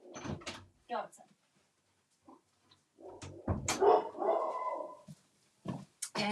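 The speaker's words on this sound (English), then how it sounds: "the other dogs are barking" Dogs bark indoors in short, sharp bursts, mixed with a person talking and some household knocks.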